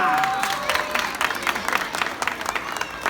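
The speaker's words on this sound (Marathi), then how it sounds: "टाळ्या" An audience claps at a prize distribution ceremony for a dance competition. The clapping is moderate and scattered and lasts throughout, with a few brief tones and some background voices underneath.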